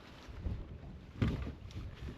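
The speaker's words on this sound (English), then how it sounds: "it's gotten really windy. I mean, bad. Gusting probably 25." Strong gusting wind buffets a bass fishing boat on open water, low rumbling microphone roar swelling in bursts with a sharp gust near the middle, no voices.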